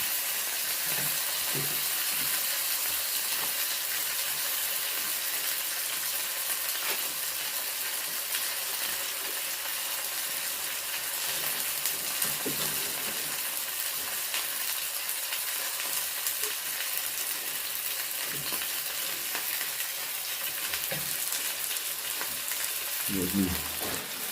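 Cheese sizzles steadily in a small pan on a camp stove at a snowy, windy wild camp, a continuous soft crackle and hiss with occasional faint clinks and no talking.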